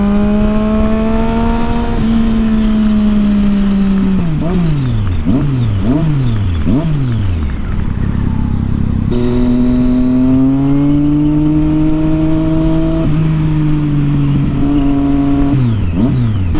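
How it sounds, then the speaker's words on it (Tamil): A Triumph Street Triple motorcycle fitted with a loud Yoshimura exhaust revs hard and close, its engine note sweeping up and down in repeated rising and falling bursts before settling into sustained high revving. "வேற லெவலுங்க வண்டி சவுண்டு."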